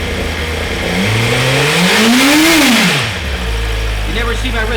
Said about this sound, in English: so it's very easy to rev up the engine.